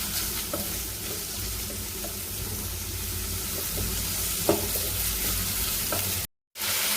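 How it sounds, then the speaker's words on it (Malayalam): Crushed ginger, garlic and tomato sauté in a pan for a liver curry, giving a steady close sizzle with occasional spoon scrapes and stirring knocks. The sizzle cuts out briefly near the end. "ഇഞ്ചി വെളുത്തുള്ളി ചതച്ചത്, പിന്നെ തക്കാളി, ഇതെല്ലാം കൂടി ഇട്ട് നല്ലോണം ഒന്ന് വഴറ്റണം കേട്ടോ."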